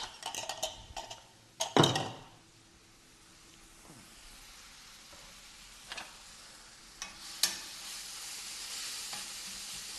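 Mushrooms and shallots sautéing in a pan: a steady soft sizzle with several sharp clanks and scrapes of a utensil against the pan, fairly close and with no talking.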